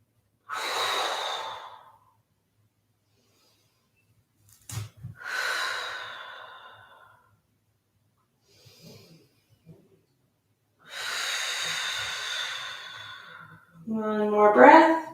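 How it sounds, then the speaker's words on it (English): Slow, deep breaths during a relaxing back-focused yoga stretch, several long audible inhales and exhales separated by quiet pauses, close and soft, with a brief voiced sigh at the end. "Deep breaths here."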